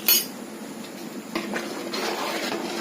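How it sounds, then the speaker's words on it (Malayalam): A spoon stirs poha and coconut halva with cardamom in a metal pan, making close clinks and scrapes. One sharp knock comes at the start, followed by softer, irregular scraping. "നമുക്ക് നന്നായിട്ട് ഇളക്കി കൊടുക്കാം"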